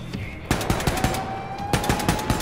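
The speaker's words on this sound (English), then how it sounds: "Don't you dare shoot that gun." Rapid automatic gunfire from the shooter game Wolfenstein 2: The New Colossus, loud, close bursts of evenly spaced shots with a short gap, a steady game tone humming underneath.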